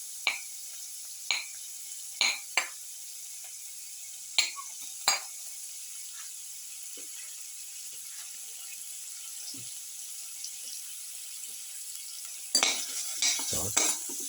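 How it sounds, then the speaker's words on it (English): Onion pieces in a pan for a cumin potato tomato rice casserole, with a faint steady sizzle and a few sharp utensil scrapes and taps against the pan as they are stirred, ending in a louder cluster of clatter. "Put in the onion pieces."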